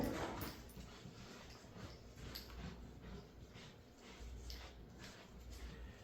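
A strong dog playing with a toy lets out faint, high whimpers in short, scattered bursts over a noisy room background.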